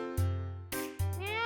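A person imitating a cat's meow during a Hindi TV show, two drawn-out, clear voiced meows close up, the second rising at its end.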